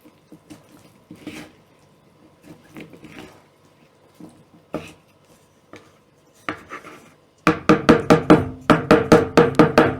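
A spoon stirs a thick bean salad in a bowl, giving soft scattered scraping and clinking at first, then a loud, rapid run of repeated spoon strikes against the dish near the end.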